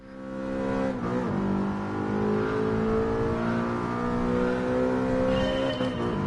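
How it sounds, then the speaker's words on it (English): An older Audi R8 in Gran Turismo Sport revs and accelerates, its engine tone climbing and dipping with a brief shift near the first second, loud and continuous with no talk. "This is probably an older model of the Audi R8 or something like that."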